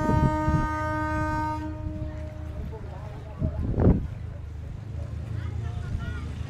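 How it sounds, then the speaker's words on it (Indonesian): A deep, loud ship horn sounds one long steady blast that cuts off, leaving a low engine rumble and faint background voices aboard a passenger ship bound for Madura. "Nah, ini adalah klakson 2 kali."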